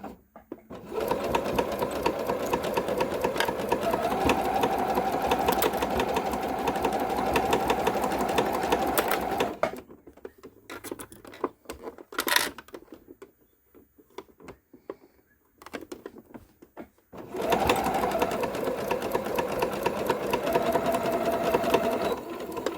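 A sewing machine stitches a zipper pouch trimmed with lace. Two long runs of rapid, even mechanical stitching are split by a quieter pause filled with small clicks and handling noises.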